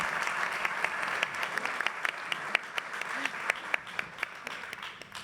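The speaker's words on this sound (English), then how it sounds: "Can we just give him a round of applause?" Summit audience applause, crisp individual claps standing out over a sustained crowd clapping at moderate level, with a faint voice or two mixed in.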